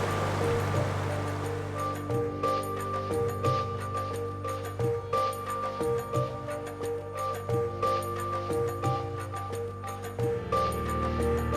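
A river flows across a road in Tajikistan, making a continuous rushing wash. A steady hum and regular soft knocks from passing movement run under it.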